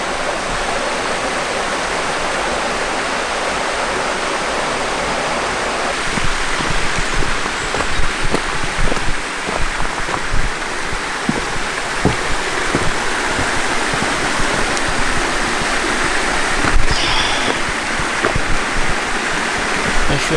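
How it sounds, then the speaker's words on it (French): A waterfall beside a river roars with steady rushing water, close and loud, while footsteps and faint movement sound over the continuous spray. "Voilà la cascade."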